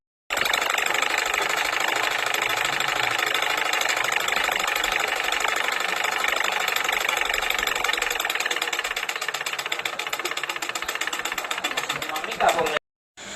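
A sewing machine stitches a salwar suit in one long continuous run, a loud close mechanical rattle that stops near the end with a brief clunk.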